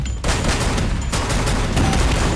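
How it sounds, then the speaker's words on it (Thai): Dense gunfire from an enemy behind the player in Free Fire, a loud continuous burst of shots with only a brief pause near the start and another around one second. "มันมีตัวด้านหลังยิงอยู่แถวนี้แหละ"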